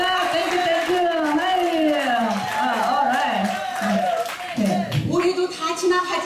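Audience applauding at a line dance association Christmas party, scattered clapping and cheers running under a continuous amplified voice that talks over it the whole time.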